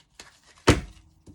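Tarot cards popping out of a deck, heard as a soft flick followed by one louder close papery thump and a faint tap after it, in a quiet room.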